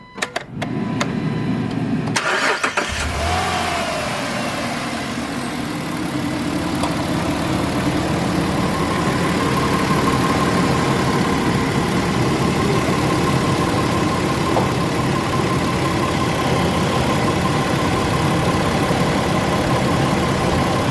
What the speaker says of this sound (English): We're going to start the car and bleed the system.